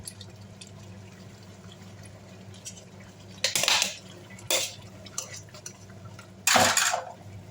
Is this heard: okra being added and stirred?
yes